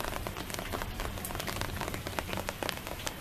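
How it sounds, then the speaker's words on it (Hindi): Light drizzle with raindrops pattering onto a camera lens beneath an umbrella at midday, a steady soft hiss of rain peppered with close, sharp individual drop taps throughout, with no talking. "बारिश की बूंदें जो हैं वो लेंस पे गिर रही हैं।"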